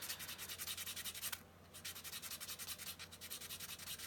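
Sandpaper rubs a plastic part of a 1/144 High Grade RGM-79G model kit in quick, rhythmic back-and-forth strokes, close and fairly quiet, with one brief pause midway.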